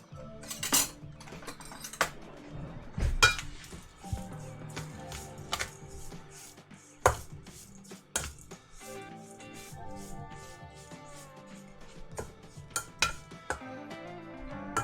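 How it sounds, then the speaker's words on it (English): A spoon stirring sugar and a pinch of salt in a container, with light scraping and irregular clinks and taps close by, occasional sharper knocks, and no talking. "We'll give this a stir up."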